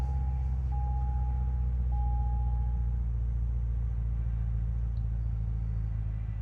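A Corvette C6 Z06 with a 427 LS7 V8 and six-speed manual idles after starting, a steady deep low rumble with an even throb, close and unchanging, a faint beeping tone briefly above it.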